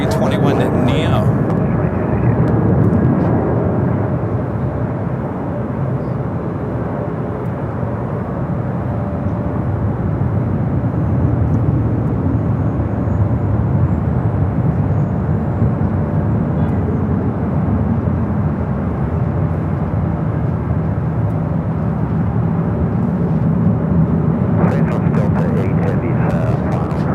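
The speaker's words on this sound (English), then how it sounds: "Coming up from Detroit, A321 Neo." An Airbus A321neo airliner arriving from Detroit at LAX gives a continuous broad engine roar lasting the whole stretch, fairly loud and steady.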